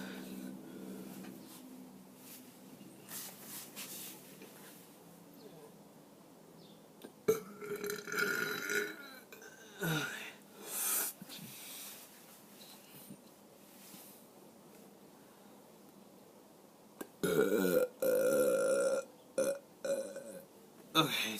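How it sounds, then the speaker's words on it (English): Long, loud human burps come in a few drawn-out bursts, with tonal croaking eruptions near the middle and a strong final one toward the end, separated by quieter stretches of background noise. "I'm trying to do a long burp this time."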